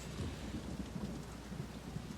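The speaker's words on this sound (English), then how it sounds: "Oh no, thunderstorms." A thunderstorm in the town-building game Townsmen: A Kingdom Rebuilt brings steady rain with a low rumble of thunder underneath, a dense and even wash with no voices.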